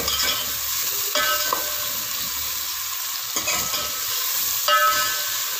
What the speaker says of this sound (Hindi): अभी मैं थोड़ा सा इसमें नमक डाल दूँगी और प्याजों को फ्राई कर लूँ